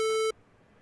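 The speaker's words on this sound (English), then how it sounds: "What you actually heard that first time is a square wave, which Eddie was talking" A steady synthesized square wave tone, bright and buzzy with strong harmonics, sounding loud for about a third of a second and then cutting off abruptly into quiet background noise.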